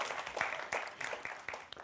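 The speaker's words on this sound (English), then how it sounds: "Everybody give Beth a big round of applause." Church congregation applause, a brief, fairly faint patter of clapping with a few sharper individual claps standing out.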